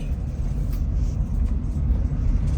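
Lotus sports cars driving on Palomar Mountain, a continuous low engine rumble with road and wind noise, moderately loud and steady without a distinct single pass.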